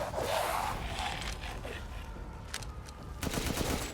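Guns firing in Resident Evil Village, heard as scattered, fairly quiet shots and clattery bursts over a busy in-game background, with a few sharper cracks toward the end and no clear talking.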